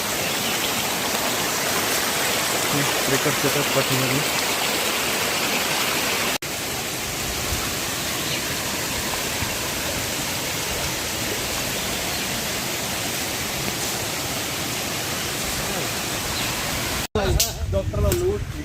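Water rushes steadily on a trek to the Lingyaghat waterfall in the Tamhini area, a loud, broadband roar close by. It continues almost without a break, with a sudden disturbance near the end.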